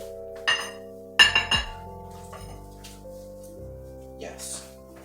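Glass champagne flutes clink sharply a few times while a table is set with a purple place setting, bright close ringing taps followed by fading tones and softer knocks.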